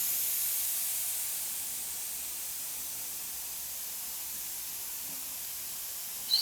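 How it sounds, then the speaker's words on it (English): An Iwata Eclipse airbrush sprays a fine tapered line with a steady, close, airy hiss that starts slightly stronger and then holds even, with no talking. "the trigger is working its way forward and the airbrush is getting slightly closer to the surface"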